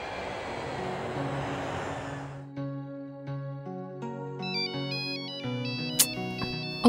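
A phone ringtone plays a melodic electronic tune, loud and close, starting after a burst of background noise and repeating its bright pattern for several seconds with no talk over it.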